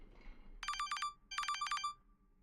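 A telephone ringtone in the Dark and Darker game: two quick bursts of bright electronic trilling rings, close and clear over faint background hum.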